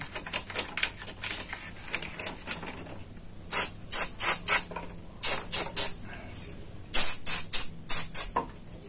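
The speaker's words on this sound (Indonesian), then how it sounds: "jadi saya tetap ingin menyemprotkan di bagian yang sering bermasalah. Biasanya di bagian equalizer ini." Contact cleaner sprayed onto the equalizer section of a faulty amplifier: a first run of close, fast clicking taps, then repeated short hissing spray bursts in groups of three or four, loud and near, with no voices.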